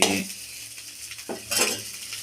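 A spatula stirs and pushes aside catfish puttu frying in a pan, with scraping strokes over a soft, steady sizzle.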